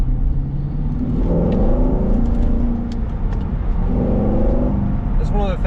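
Corvette on summer-only tires accelerating in second gear, a loud sustained engine rumble with rising tone, heard from inside the car while a person talks over it.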